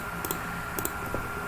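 Computer keyboard keys pressed as a Shift+Enter shortcut while running Python code: a few soft, close clicks spaced over a second and a half, with no other sound.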